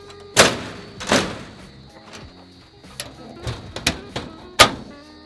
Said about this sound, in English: Let's go and shut the first door on the Rhode Island red cage.